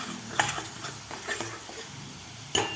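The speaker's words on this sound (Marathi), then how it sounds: "आता व्यवस्थित आपल्याला हे मसाले त्या खालच्या मसाल्यामध्ये व्यवस्थित परतून घ्यायचे आहेत" Ground spices, coriander powder among them, are stir-fried into a chicken rassa masala, making a soft sizzle under brief scraping and spoon clicks, with one sharper knock near the start and another near the end.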